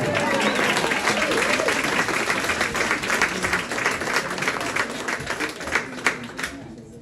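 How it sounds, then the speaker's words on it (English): Audience applause at a school board meeting honouring a student wrestling champion, loud and dense clapping that starts at full strength and slowly thins toward the end, with some voices mixed in. "It's important to applaud that."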